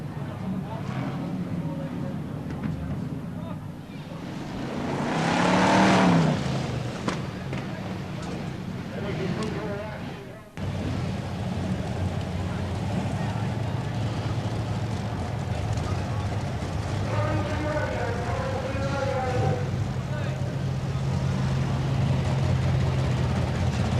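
Racing engines from BriSCA Formula 1 stock cars at Boston Stadium in 1993, a sustained roar with a pass swelling loudly around the middle, a commentator talking over the steady drone throughout.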